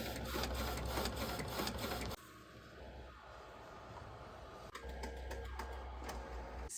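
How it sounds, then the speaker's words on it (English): A printer runs through sublimation designs with a steady mechanical whir, broken by repeated rising and falling carriage sweeps and a brief pause midway, close and continuous throughout. "And we are going to print out 2 of these."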